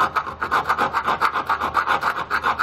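A hand file rasps back and forth against a slotted hole in a Ford Focus car frame, with about a dozen quick, even scraping strokes close by.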